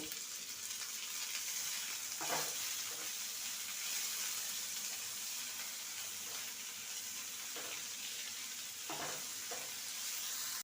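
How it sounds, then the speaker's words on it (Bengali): Chopped onions and green chillies frying in a pan, a loud continuous close-up sizzle with a few spatula scrapes spaced through it. "পেঁয়াজ আর কাঁচা লঙ্কা দু মিনিট ভেজে নিয়েছি"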